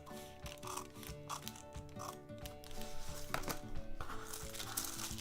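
Scissors cutting into a dart on a paper sewing pattern for a full bust adjustment: steady, close crisp snips and faint paper rustle, quiet and unhurried, with no talking.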